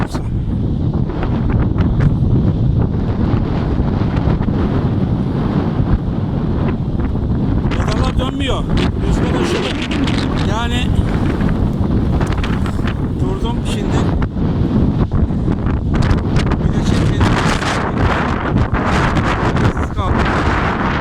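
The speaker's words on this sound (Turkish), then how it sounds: "Bu rüzgar sesi videoya giriyorsa." Steady low rumbling wind buffeting the microphone on a farm near Şarköy, Turkey, loud and continuous, with gusty bursts growing stronger partway through.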